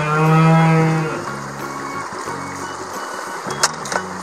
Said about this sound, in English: Underneath the yellow square was a cow.